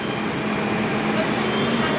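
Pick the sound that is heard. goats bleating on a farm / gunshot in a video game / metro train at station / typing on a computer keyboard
metro train at station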